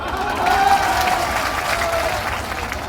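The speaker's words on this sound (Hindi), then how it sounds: "एक बार अपने आप के लिए ताली बजाइए" An audience at an AIMIM political rally in India gives loud, continuous applause with crowd noise. The dense clapping holds steady and a faint voice carries underneath it.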